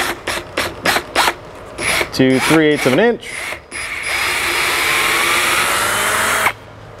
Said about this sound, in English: I'm going to drill this on center